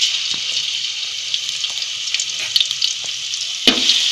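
Garlic paste sizzles steadily in hot oil in a pan while it is stirred, with scattered scraping clicks and one sharper knock near the end; no voices.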